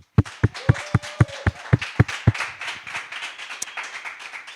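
Applause for a lead teacher at a coding bootcamp demo day, opening with loud, evenly spaced claps close by, then blending into a looser, quieter crowd of clapping that thins out.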